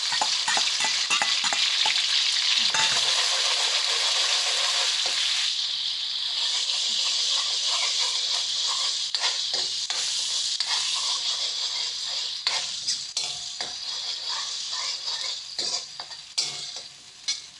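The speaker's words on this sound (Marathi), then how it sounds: "आपलं तेल गरम झालं आहे, आता त्याच्यामध्ये आपण गरम मसाला, खोबरं कांद्याचं वाटण घालूया।" Garam masala and a ground coconut-onion paste fry in hot oil for a fish curry, starting with a loud, bright sizzle that slowly softens while a utensil stirs and rattles against the pan.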